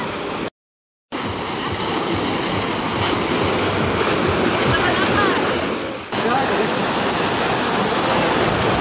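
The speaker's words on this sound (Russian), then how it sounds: "Джакузи с морской водой." Churning, rushing water from a seawater jacuzzi at a Crimean water park, a loud steady broadband wash with a short gap near the start, and people talking faintly in the background.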